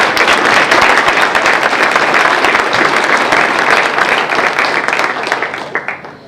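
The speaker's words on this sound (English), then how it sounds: "Let's give them a round of applause." Sustained, loud audience applause at a state press conference with the governor, a dense wash of clapping that holds steady for several seconds before starting to thin out at the end.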